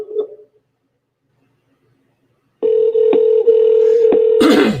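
A Skype outgoing call ringing tone begins after a stretch of near silence and holds as a steady, close, loud electronic tone to the end, with a brief faint voice at the very start.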